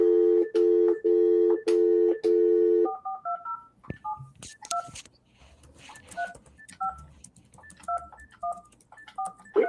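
Landline telephone keypad tones: a run of loud, evenly spaced dialing beeps, then a quicker, scattered sequence of shorter tones, close and clear with no voices.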